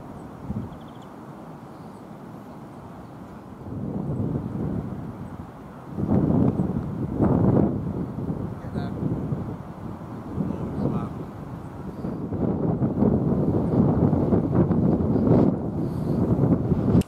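Strong wind buffets the microphone on a golf course, a constant low roar that swells in heavy gusts around the middle and stays loud to the end, with a person speaking faintly beneath it.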